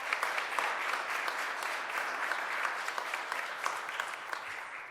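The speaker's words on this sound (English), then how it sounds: "So give her a round of applause." A room full of people claps steadily at a city council community event, dense even applause sustained for five seconds at moderate volume with no talking over it.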